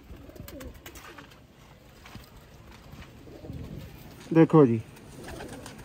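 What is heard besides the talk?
pigeons cooing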